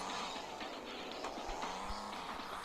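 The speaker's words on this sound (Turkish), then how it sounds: "biz bir araba kullanıyoruz" A car in the Renault Kangoo driving simulator mobile game drives with a steady, continuous engine and road noise, plus faint tire squeals, close and even in level throughout with no talk.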